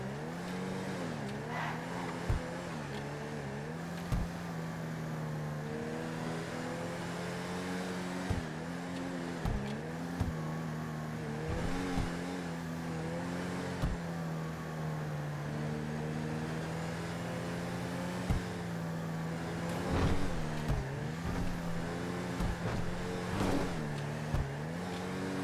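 A car engine drones steadily in GTA 5, revving and shifting with brief tire squeals and sharp clicks, a continuous game driving sound with no talk.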